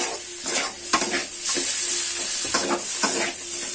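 Potato masala for Odia aloo chop is stirred in a hot pan with coriander leaves, giving repeated scraping strokes roughly every half second over a steady, close sizzle, with no talking.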